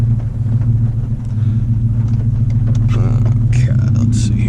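A car running the OZ Tuning Omega tune in regular mode drives with a loud, steady low engine rumble, holding first gear longer before a firm shift, with some wind and cabin noise on top.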